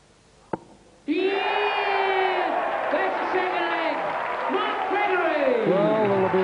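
A darts crowd at a 1993 World Championship quarter final erupts after a short knock, loud sustained cheering, whooping and applause filling the hall for several seconds.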